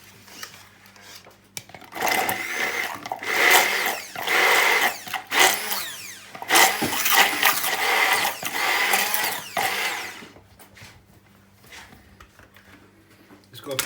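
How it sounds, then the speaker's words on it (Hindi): Electric grinder whirring as it grinds garlic in a home kitchen while dal tadka is being prepared, running in several loud bursts over about eight seconds with short pauses, then stopping. "अपने लहसुन को ग्राइंड कर लेंगे।"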